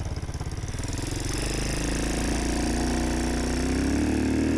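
A custom 1967 Honda CT90 motorcycle with a swapped YX140 engine revs up from a low, pulsing idle-like chug into a steady, loud, rising drone that holds close and continuous to the end.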